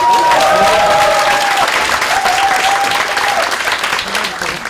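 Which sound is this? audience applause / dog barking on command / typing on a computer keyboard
audience applause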